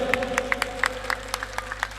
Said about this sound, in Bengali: করতালি দিয়ে অভিনন্দিত জানুন।